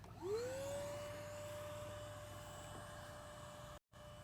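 An electric air pump inflates a $400 Costco inflatable boat set to 3.5 pressure, its motor rising into a steady, close, droning whine that holds without letting up.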